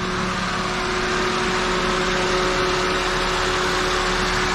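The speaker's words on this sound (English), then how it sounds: "All right, so the engine is running" A 2007 Toyota Corolla engine idles with the parking brake on, holding a steady, even hum at moderate volume. The drone is unbroken and there is no talking over it.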